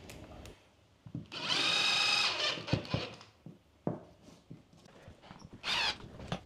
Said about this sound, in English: Just a few more screws to put in around the place.